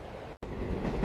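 A train rolls along rails with a continuous close rumble and rattling carriage noise, broken by a brief dropout, with no talk.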